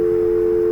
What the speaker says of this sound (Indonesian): Nah, misalkan kita akan menelpon